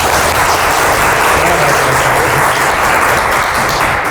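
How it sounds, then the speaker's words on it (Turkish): Schoolchildren in a classroom applaud a guest being introduced, producing loud, close, continuous clapping that stays even and packed from start to finish. "Bir alkış alalım Rami Bey'e."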